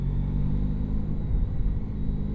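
Honda Pan European motorcycle engine pulling smoothly under throttle, a deep steady rumble with wind noise, heard while riding and without speech.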